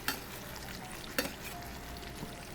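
Beef sizzles and crisps in a hot pan, a steady close frying hiss with a couple of brief stirring scrapes, no talking.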